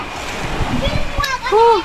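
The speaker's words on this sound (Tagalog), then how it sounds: "Lakas ang alon" Strong ocean waves surge and splash close by near a cave on an island shore, a rough broadband wash with wind, while people talk over it.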